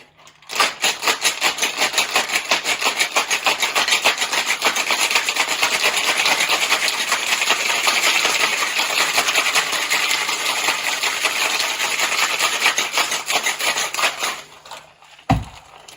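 Ice rattles hard inside a sealed cocktail shaker shaken vigorously for about fourteen seconds, a loud, close, fast rhythmic clatter that stops suddenly, followed by a single knock.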